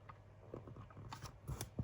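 Scissors snip through a paper craft piece up close, a quick run of crisp cuts building to louder snips at the end, with no talking.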